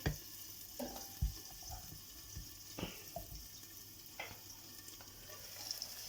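Canned okra frying in a pan as liquid is poured in, a soft continuous sizzle and watery hiss with scattered clinks and stirring knocks, faint and close.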